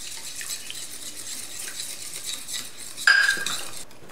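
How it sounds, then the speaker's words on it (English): Melted shortening being stirred into a yeast and sugar mixture for homemade bread, giving soft utensil scrapes and light clinks against a bowl, with a brief louder clatter near the end. "So now I'm going to take the 4 tablespoons of melted shortening and stir them into this yeast sugar mixture."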